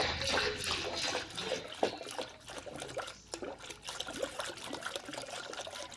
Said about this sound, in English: Alright, so it's time to fill this up with some coolant. I'm using Honda coolant here, 50/50.